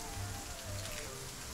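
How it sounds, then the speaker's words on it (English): Rain patters in the military game ARMA 3, a faint, steady hiss of drops over a low, pulsing rumble, with no one speaking. "No. I love the rain."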